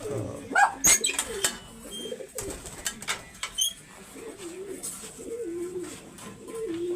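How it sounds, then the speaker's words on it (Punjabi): A large pigeon of a prized Punjabi breeding line coos close by in a series of low, rolling calls, with sharp chirps and clicks scattered over them. "ਇਹ ਵੀ ਵੱਡਾ ਕਬੂਤਰ ਆ"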